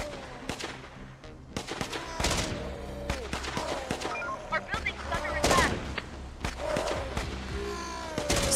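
Soldiers shoot in the zombie game Infection Free Zone, with sharp single shots and short bursts scattered among thuds and game effects, and someone talking now and then in German.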